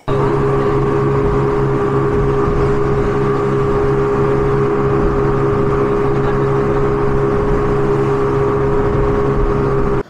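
A speedboat engine drones loud and steady as the boat heads to Coral Island off Pattaya, a constant close hum with wind and water rush underneath and no break in the sound.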